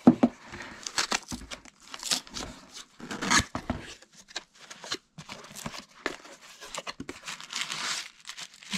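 Tissue paper is unwrapped from a shipped art print package that came in a tube box, giving close, continuous crinkling and rustling with a few sharper tearing bursts and no talking.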